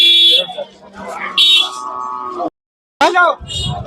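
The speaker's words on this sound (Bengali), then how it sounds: "তিনটা গরু চলে যাচ্ছে হজরতপুর হাট থেকে" Cattle at a crowded Qurbani cattle market, several close, loud moos in quick succession, separated by a short gap of silence.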